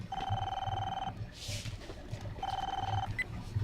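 A home telephone rings in a TV drama scene, two clear electronic ring bursts separated by a pause, with soft background sound and a brief noise between rings.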